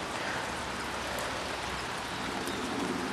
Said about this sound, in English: Okay, we've got rain.